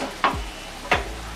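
Peanuts and dried red chilies crackle in hot oil for a curry leaves rice tempering, with two sharp sizzling bursts, each fading quickly over a low steady hiss.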